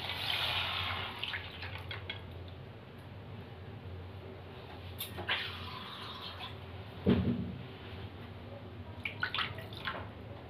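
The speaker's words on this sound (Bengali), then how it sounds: "তো আমি এর মধ্যে এবার দিয়ে দেবো এবার পরিমাণ মতন জল।" Water pours into a pan for Maggi noodles, a brief splashing rush at the start settling into a quieter watery trickle with a few scattered drips and splashes, close by.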